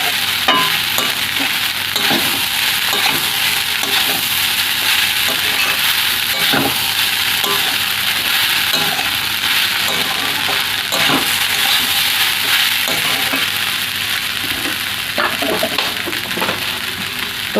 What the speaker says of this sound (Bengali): তো হালকা জলে ভালো করে নেড়ে চেড়ে নেব, একদম গ্যাসের দিকে কমিয়ে দেবো